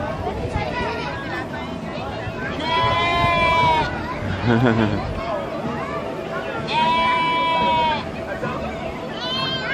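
Two drawn-out bleats from young goats ring out over a busy background of chatter and farmyard noise at a country fair.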